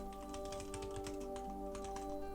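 Fingers type a prompt on a computer keyboard in a rapid, uneven run of soft clicking keystrokes, close and fairly quiet, over a steady electrical hum.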